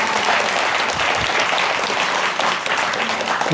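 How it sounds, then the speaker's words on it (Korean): Applause from a crowd of temple pilgrims for a Buddhist head monk and temple staff, a dense steady clapping that fills the whole stretch, with a faint voice briefly under it. "종무신님께도 박수 보내주시고요"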